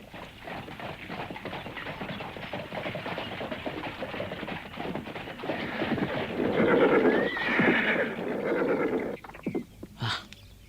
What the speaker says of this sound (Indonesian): Suara kereta kuda di luar.